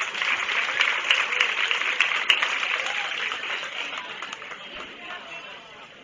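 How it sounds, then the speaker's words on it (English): A crowd at a county fair goat show applauds the exhibitors, sustained clapping at moderate distance that holds steady for several seconds and then slowly thins out. "Let's give them all a nice round of applause to head out."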